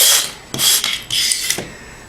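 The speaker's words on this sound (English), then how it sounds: "I'll rub down the sides here to make the gravel shoulder taper into the ground beside it" Loose gravel ballast on a model railroad country road is rubbed down by hand to taper the shoulder, producing three close, gritty scraping strokes separated by brief pauses.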